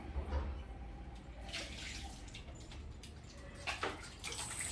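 Water is poured over a dog during its bath, giving faint splashing and trickling with a few brief louder gushes against a quiet background.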